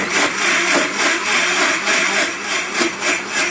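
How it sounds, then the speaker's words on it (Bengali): A kitchen mixer blends roasted mango pulp with a steady, loud, broadband whirring grind that holds even throughout, with slight rhythmic pulsing and no voices. "এই দেখো আমের পাল্পটা মিক্সারে ব্লেন্ড করা হয়ে গেছে।"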